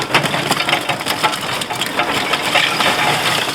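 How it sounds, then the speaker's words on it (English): Lump charcoal is poured into a Big Green Egg ceramic grill, making a dense, close, continuous clatter of tumbling pieces with no speech. "Get some of those beautiful charcoals in there."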